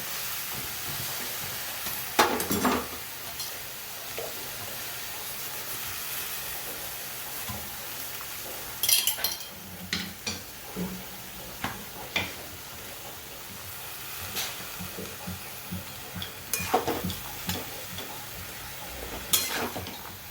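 Cabbage and carrot being stirred in a hot pan, a steady sizzle with scattered scraping spoon strokes, louder clusters of stirring at a few points.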